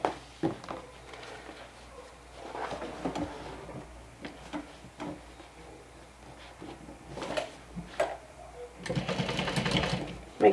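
A sewing machine stitching makeup bag lining pieces, in short bursts of rapid mechanical whirring and ticking separated by pauses, with handling clicks between runs and a longer burst near the end.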